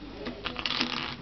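A deck of playing cards riffled during a Texas Hold'em game, a brief run of close, crisp fluttering clicks building and settling over about a second.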